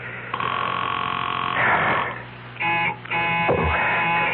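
A telephone rings unanswered on a radio drama line, a repeated electronic buzzing ring in several long bursts separated by short gaps, loud and narrow-toned over a quiet background.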